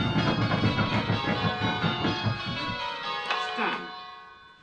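Church bells ring from a bell-ringing simulator during a pull off on bell 4, a rhythmic series of bright, overlapping bell strikes that fades after a few seconds, with a voice speaking briefly near the end.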